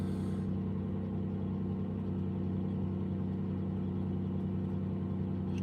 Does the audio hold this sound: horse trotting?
no